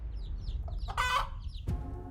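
A mother hen clucking near her chicks, with a few short repeated clucks followed by a louder, harsher squawking call, close by.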